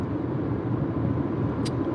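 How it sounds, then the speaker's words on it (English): Steady interior rumble of a car on the move, with engine and road noise droning evenly and a brief faint tick near the end, no voices. "So here I am, driving again."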